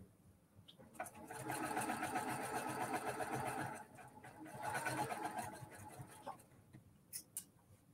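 A sewing machine stitches the final seam of a quilt block in two sustained bursts of fast, close needle clatter and motor whir, separated by a short pause, with faint clicks and quiet room sounds around them.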